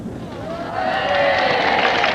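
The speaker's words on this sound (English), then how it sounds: "And a lovely cheer from the crowd there." Crowd cheering at a royal wedding, a broad swell of voices that builds partway through and holds loud and steady, heard alone without talk.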